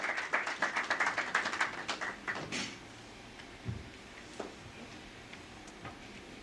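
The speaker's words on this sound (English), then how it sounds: "A round of applause, please, as he comes." An audience at a stock exchange listing ceremony claps briefly and quickly, a dense burst of applause that fades out within about three seconds, leaving a quiet room with a few faint knocks.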